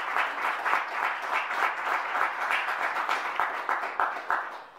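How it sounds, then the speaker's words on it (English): An audience at an economics conference gives a steady round of applause, dense overlapping claps sustained at even loudness throughout, with no talking over it. "if you could join me for a round of applause"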